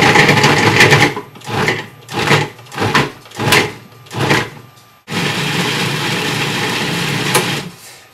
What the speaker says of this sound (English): So I'm just gonna pulse this together until it forms kind of like a dough.